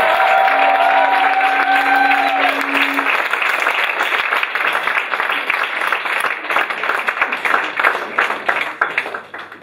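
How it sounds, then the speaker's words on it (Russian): Church congregation applauding at a bishop's sermon, dense sustained clapping close and loud from the start, thinning slightly toward the end, with a few brief tonal sounds early on. "Да, хорошие аплодисменты Богу."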